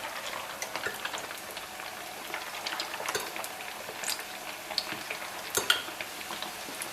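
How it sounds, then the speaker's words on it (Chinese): Small meatballs of minced meat deep-fry in oil over medium heat, giving a steady crackling sizzle dotted with sharp pops and spatters, close and without talk. "丸子刚下入锅中"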